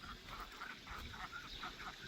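Several ducks quack repeatedly near a pond by a beach, a steady run of nasal calls with a faint, goose-like honking quality, heard alone with no talking.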